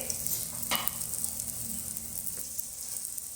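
Holige, a sweet flatbread, frying in oil on a pan, with a steady close sizzle that holds throughout and a few brief crackles over the top.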